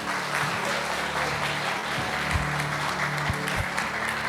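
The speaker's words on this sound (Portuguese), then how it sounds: "Vamos aplaudir meu querido aqui." Applause from a congregation at a Sunday family church service, a steady wash of many hands clapping throughout, with a low hum and a few thumps underneath.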